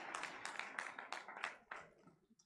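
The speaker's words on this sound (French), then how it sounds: "On peut applaudir le Tchadien." Audience clapping and cheering for a performer at a French stand-up comedy show, a dense burst of applause that swells and then fades out over a couple of seconds.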